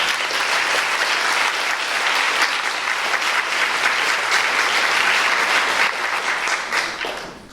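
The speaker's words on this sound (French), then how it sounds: "Je vous demandais déjà de l'applaudir, s'il vous plaît" Sustained applause from a university auditorium audience at a conference opening, dense and loud clapping holding evenly for several seconds before tapering at the end.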